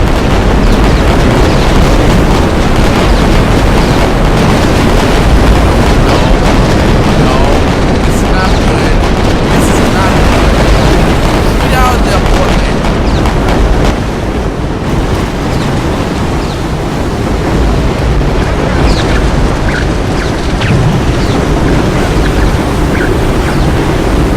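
Heavy, continuous rumbling booms and roaring blasts from a naval battle in the video game Victory At Sea, with a ship's magazine exploding; the dense, loud noise runs without a break and no one talks.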